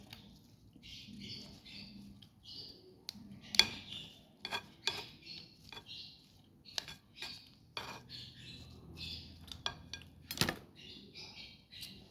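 Barbecued salad and sausages mixed in a dish, giving light scraping, tapping and clinking of utensil against the dish in irregular bursts, close and fairly quiet, with no voice.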